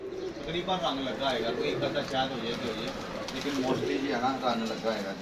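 Pigeons coo in low, rolling burbles while people talk over them nearby.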